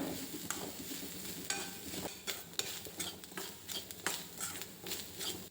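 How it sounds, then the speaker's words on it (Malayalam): Shallots, fennel seeds and curry leaves roast in a pan, with steady stirring scrapes, light clinks of a spoon against metal and a soft sizzle running throughout, fairly quiet and close. "ഇത്രയും ചേർത്ത് ബ്രൗൺ നിറാവുന്നത് വരെ വറുത്തെടുക്കണം"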